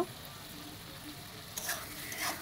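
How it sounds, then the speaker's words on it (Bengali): Chopped tomato frying with spice paste in a pan for a fish curry, a soft low sizzle with light stirring scrapes and a brighter crackle near the end, no voices. "টমেটোটিকে আমি মশলার সঙ্গে খুব ভালোভাবে কষিয়ে নেব"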